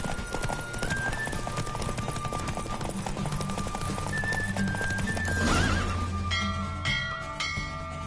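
Horses gallop in a race in The Witcher 3, with rapid hoofbeats pounding steadily throughout, horse neighs and snorts breaking in, and tonal game music and chimes layered over the hooves.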